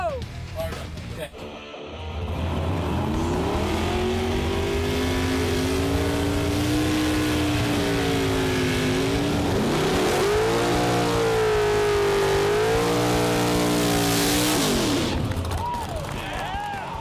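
A drag racing car engine fires up and revs hard, holding a loud, rough, throbbing roar with rising and falling pitch for most of the stretch, with voices faintly in the background.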